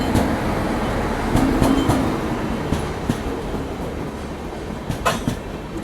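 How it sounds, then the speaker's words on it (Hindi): A Duronto Express hauled by a Kavach-fitted WP7 locomotive from Lallaguda shed runs on Konkan Railway, giving a steady rolling rumble with scattered wheel clicks and rattles. "कवच फिटेड लालागुड़ा शेड का WP7 लोकोमोटिव।"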